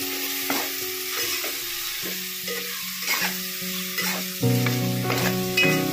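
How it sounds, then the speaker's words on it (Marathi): A spoon scrapes and stirs a roasted onion-tomato gravy sautéing with mutton in a pan, a low steady sizzle broken by repeated scraping strokes, growing slightly louder toward the end, with no talk. "ग्रेव्ही आपण टाकली आहे, आपण परतूया।"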